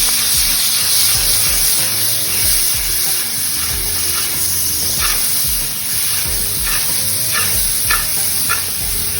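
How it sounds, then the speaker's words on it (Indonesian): Garlic and shallots sauté in Blue Band margarine for wet fried kwetiau, a steady close sizzle with scraping stirs and a few sharp clinks of a utensil against the pan. "Blue bandnya untuk menumis,"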